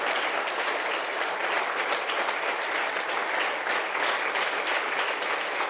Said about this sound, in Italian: fate un applauso a Armando e alla sua squadra